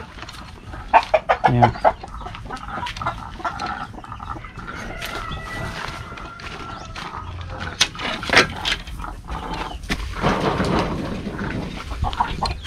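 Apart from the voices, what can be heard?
free-range Brahma and Kabir chickens clucking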